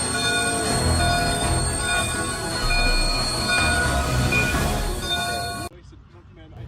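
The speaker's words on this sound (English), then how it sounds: "2816 came around the curve at track speed under the Zwolle pedestrian bridge" CP 2816 Hudson steam locomotive and train rounding a curve at track speed under a pedestrian bridge in Zwolle: loud, continuous rolling rumble with high wheel squeal, cutting off abruptly near the end.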